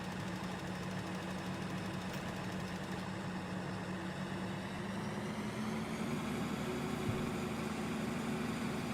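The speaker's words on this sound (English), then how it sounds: "Turn that sprayer on." A tractor with a sprayer runs in Farming Simulator 2013, giving a steady, droning engine hum with a low tonal rumble that holds unbroken throughout, close and continuous with no talk.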